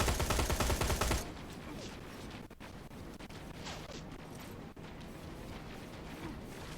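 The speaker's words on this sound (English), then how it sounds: "Apparently they've got armored spiders that have machine guns now, laser machine guns now rather than Gatling guns." In the video game Terminator: Resistance, armored spider robots fire laser machine guns in a loud, rapid burst that cuts off after about a second, followed by scattered distant shots and crashes over a low battle rumble.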